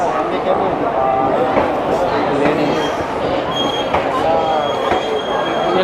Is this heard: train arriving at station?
yes